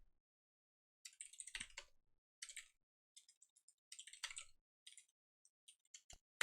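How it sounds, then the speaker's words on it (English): Quiet, scattered keyboard clicks come in short bursts with pauses between, close and soft, ending in a couple of sharper taps. "I'll probably mess up typing my password."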